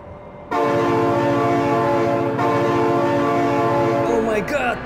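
A video game train sounds a loud, sustained horn chord that starts abruptly and holds for several seconds while it rumbles close by, with brief shouting near the end.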